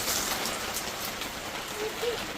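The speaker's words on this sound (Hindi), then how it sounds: "बहुत तेज़ बारिश हो रही है" Heavy rain pours down in winter, a dense continuous hiss of drops hitting surfaces, loud and steady throughout the short stretch with no talking.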